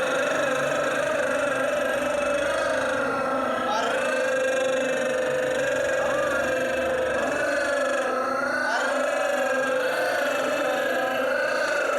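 During a yoga vocal exercise, a voice imitates a motorcycle accelerating with a steady, buzzing hum that holds for the whole stretch, its pitch swelling upward briefly twice.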